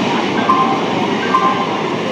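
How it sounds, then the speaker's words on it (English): A Sealdah-Shantipur local train rolls in along the platform at a busy suburban station, a loud, steady rumble of wheels and carriages close by, with faint squeals rising briefly over the noise. "train number 31519 out Sialdah Shantipur local is arriving on platform number 1."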